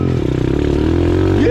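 Mini motorbike on a dirt trail, its engine droning loud and close with a rising rev toward the end, plus some rattling clatter from the ride.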